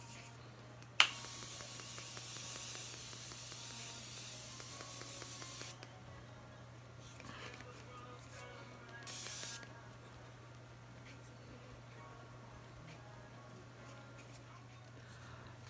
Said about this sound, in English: I'm gonna lock the powder in to secure it with the Morphe setting spray.